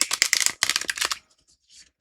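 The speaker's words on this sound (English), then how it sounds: "Okay, so good shuffle, really good shuffle." A cat-themed oracle card deck is shuffled briskly, two quick bursts of riffling cards that rattle loud and close, followed by a brief pause with a few faint soft rustles.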